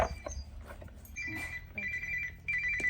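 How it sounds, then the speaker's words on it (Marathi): A phone rings in three repeating electronic bursts, fairly close, in a home kitchen with faint room noise and rustling between rings. "फोन कोणाच आला"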